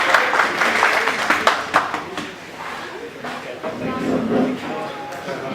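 Audience at a welcome party in Koblenz applauding, with clapping strongest at the start and fading as voices talk over it.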